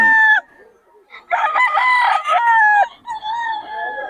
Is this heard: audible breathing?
no